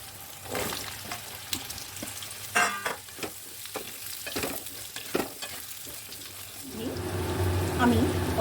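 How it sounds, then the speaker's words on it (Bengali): Papaya pieces go into hot oil seasoned with asafoetida and fry, a loud, crackling sizzle with stirring scrapes and clatter, ending in a bright spattering hiss, close by. "পেঁপেটা দিয়ে কিন্তু একটু ভাজতে হবে।"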